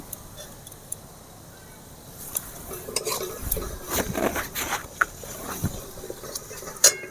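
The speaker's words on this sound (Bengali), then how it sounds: "মশলা ভালো করে ভেজে নিতে হবে" A spoon stirs spice paste of garlic, ginger, cumin, turmeric and tomato frying in a pan, with soft sizzling and intermittent scrapes and clinks building in the second half, close by and without talk.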